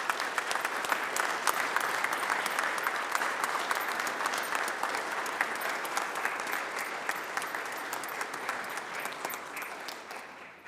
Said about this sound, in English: while they do that, I'll ask for a round of applause